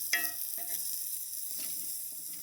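Deer heart frying in a pan over a small banked campfire, a steady soft sizzle with faint crackles and a light clink near the start, close and quiet with no talking.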